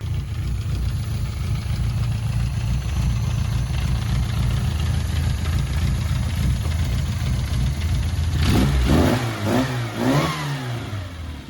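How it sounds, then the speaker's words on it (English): A Classic Mini with a swapped 1380cc engine runs steadily with a rough, close idle hum, then gets blipped into a few sharp revs near the end, with no talking. "The 1380 runs, it starts, and it does drive"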